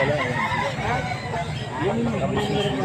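Roosters and chickens for sale at a Pampanga market, including a bulik-colored bird, give scattered clucks and calls amid steady crowd chatter and nearby voices.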